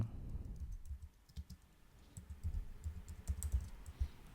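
A command is typed on a computer keyboard as quiet, irregular clicks and taps at close range, with no one talking.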